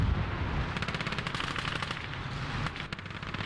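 Sustained automatic fire from a Maxim machine gun in the WWII game Call to Arms: Gates of Hell, a rapid stream of loud, closely spaced shots with a few sharper bursts near the end and no talking.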